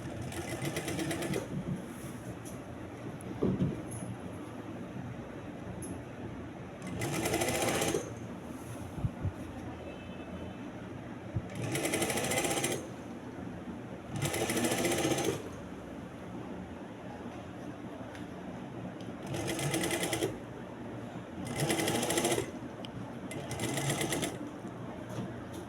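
A sewing machine stitches a wrap strip around a back neckline in repeated close bursts of rapid mechanical whirring, about five or six runs separated by quieter pauses with faint handling sounds.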